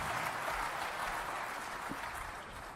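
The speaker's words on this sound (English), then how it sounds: "Would you give them a round of applause" Audience applause for the panelists at the AGRF Summit 2022 opening plenary, a steady wash of many hands clapping at moderate distance, sustained evenly without voices.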